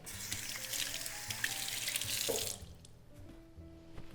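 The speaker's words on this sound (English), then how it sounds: "I'm gonna rinse this off a little." Tap water runs into a kitchen sink while something is rinsed under it, a close, steady splashing stream that cuts off partway through, leaving only faint kitchen noise.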